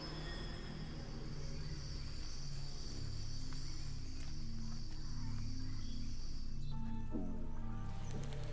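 Forest ambience from The Lost Wild video game trailer, a dense continuous bed of insect-like chirps, rustling and low tonal drones, steady and fairly quiet, with a faint shift near the end.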